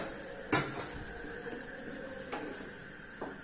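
Marinated chicken curry being stirred in a pan produces a sharp metallic clank of the spoon against the pan, then softer scrapes and occasional light taps over a faint cooking hiss.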